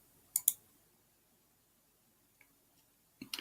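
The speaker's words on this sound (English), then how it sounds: "I'm going to click continue." A computer mouse clicking, a quick double click near the start, a faint tick later and another sharp click at the end, close and crisp in an otherwise quiet room.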